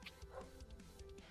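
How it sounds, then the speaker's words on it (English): Dogs bark and yip faintly in the distance, a few short scattered yelps over quiet room tone. "We apologize about the barking dogs"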